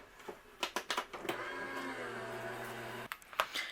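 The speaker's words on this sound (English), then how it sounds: "I'm going to run this through my die cut machine." Die cut machine for card making whirring steadily for about two seconds, bracketed by close clicks and handling knocks as cardstock is fed through.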